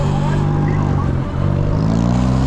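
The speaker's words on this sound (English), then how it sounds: "This guy's out, he's got some exhaust." A vehicle with a loud exhaust passes at night on a Los Angeles street, a heavy, rumbling engine drone that stays loud and close, dips briefly, then swells again.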